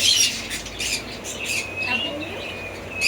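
Harsh, high-pitched squawks from a pet cockatiel burst out close by, followed by a thin whistling call against a faint room hiss.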